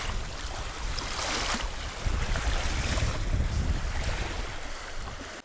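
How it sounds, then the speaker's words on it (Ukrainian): Strong wind buffets open water at a winter feeder-fishing spot, with waves washing and churning; a loud, continuous roar with no talking. "Щось погода взагалі спаскудилась, капець, вітер, хвилі."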